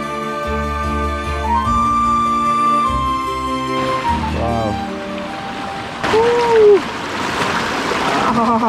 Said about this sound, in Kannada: ಕೆಳಗಡೆ ನೋಡಿ ಚಿಕ್ಕ ಹೊಳೆ ಹರಿತಾ ಇದೆ